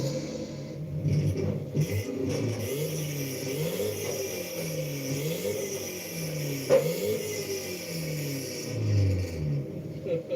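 A car engine idles with a rough, throaty rumble, revving up and settling back in gentle swells, heard close by with no talking.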